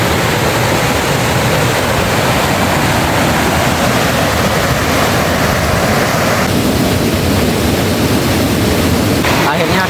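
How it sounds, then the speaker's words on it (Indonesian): Curug Dhuwur, a forest waterfall, pours in a steady, loud, broadband roar that fills the whole stretch, with the rushing tone shifting slightly near the end. "sudah sampai di air terjun Curug Dhuwur."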